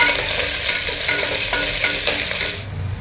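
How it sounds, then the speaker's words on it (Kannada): Mustard seeds, cumin and onion sizzle and crackle steadily in a hot pan of oil while being stirred, a continuous close frying hiss with small pops, easing slightly toward the end. "1/4 ಸ್ಪೂನು ಸಾಸಿವೆ ಜೀರಿಗೆ. ಅದು ಚಟಪಟ ಅಂತ ಇದೆ. ಈರುಳ್ಳಿ ಹಾಕ್ತಾಯಿದ್ದೀನಿ."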